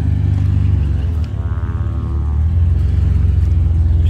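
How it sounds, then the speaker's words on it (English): A vehicle rolls in past a police station lobby in Colorado Springs, a steady close low engine rumble that dips briefly near the middle and then builds back, with no talk over it. "I'm just gonna step to the side so this vehicle here can get in."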